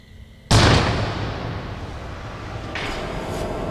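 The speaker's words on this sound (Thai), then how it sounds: "จู่ๆ ก็มีเสียงปืน ดังขึ้น" A single sharp gunshot bursts out of quiet, followed by a long rumbling echo that fades slowly, with a faint second swell of noise later.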